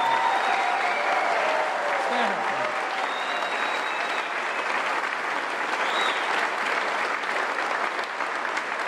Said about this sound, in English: Give her one more round of applause before we leave it.